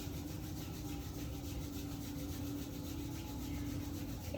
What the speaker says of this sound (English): Rubbing our palms together.